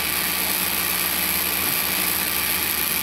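A Dremel rotary tool held at an angle near a magnet runs at a steady, high-pitched whine, with a constant motor drone and no talking.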